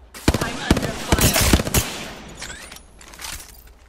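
Rapid bursts of automatic gunfire in the battle royale game Apex Legends, loud and close, cracking in quick clusters before thinning into fainter shots and game effects.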